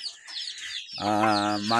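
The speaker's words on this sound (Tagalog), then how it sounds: "dito mayroon tayong isang manok, pinapalaki natin para may dispose na rin" A chicken being raised on a poultry farm clucks close by, a short burst of throaty, harmonic calls rising in strength toward the end, with fainter chirping from chicks in the background.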